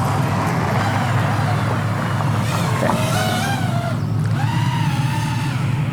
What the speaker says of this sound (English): Oh, there goes a car.